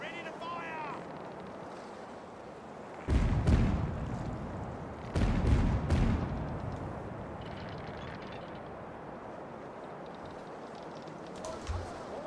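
Ship cannon broadside in the pirate video game Caribbean Legend, set against a steady sea-like background wash: two clusters of deep booming shots a couple of seconds apart, loud and close, then a fainter thud later.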